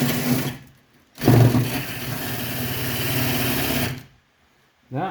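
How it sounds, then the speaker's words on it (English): A wire wheel grinds a car's grounding tab, probably on an Omni, with two loud whirring bursts of steady high-pitched buzzing separated by short gaps, close to the microphone and without speech. "I'm going to wire wheel it with this wire wheel."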